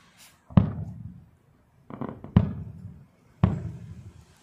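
Fireworks at a casino's 40th-anniversary celebration at a country club: three separate loud booming bursts, each a sharp bang followed by a rumbling, crackling tail, spaced about 1.5 seconds apart outdoors.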